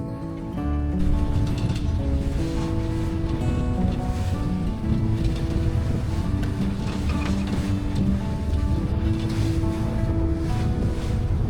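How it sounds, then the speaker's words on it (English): Waves and wind rush around a C&C 35 sailboat under way at more than 7 knots, a steady close wash of water and wind buffeting the microphone, with no voices. "there was some funky wave action"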